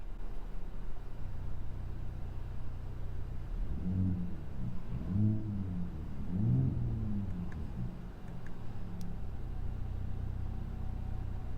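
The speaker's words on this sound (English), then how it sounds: "Now I'm just gonna do a quick blip of the throttle. Okay, we're in quiet mode now." A 2024 Ford F-150 Raptor with the 37 package gives a quick throttle blip in quiet mode, a brief muffled rise and fall of engine tone over a low steady idle rumble.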